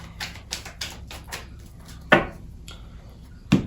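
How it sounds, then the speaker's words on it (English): Quick riffling bursts of a tarot deck being shuffled, several rapid ruffles followed by two sharper snaps as the deck is squared, close and fairly quiet. "this deck does not want to be shuffled today"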